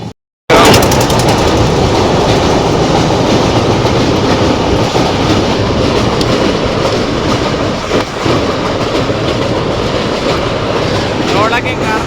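Passenger train running at night, heard from inside the carriage: a loud, continuous rumble with rhythmic clickety-clack of the wheels throughout, starting abruptly after a brief silence and holding steady to the end.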